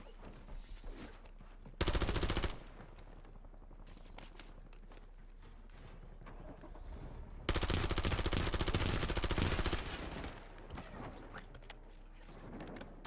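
Video game shooter gunfire: two loud sustained bursts of rapid automatic fire, one short and one longer, with scattered smaller shots, clicks and mechanical clatter between them and no talking.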